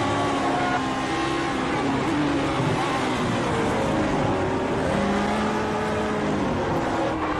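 Race cars, including two black and yellow cars, roar around a track in a sim racing video game, with steady loud engine drone and rising and falling pitch from on-board shifting and passing throughout.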